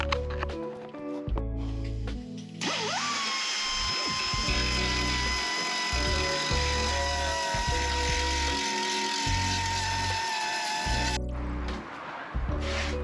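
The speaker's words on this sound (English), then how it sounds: "I'm using a belt sander to do most of this." Belt sander cleaning up metal floor pan and A-pillar surfaces on an MG Midget, a sustained high whining grind that runs for several seconds between shorter bursts, close and loud.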